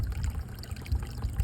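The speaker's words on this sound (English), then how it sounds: "So we're just going to let it keep draining." Water drains out of an electric water heater tank during a flush, a soft, steady trickling and splashing with a low gurgle, faint and continuous.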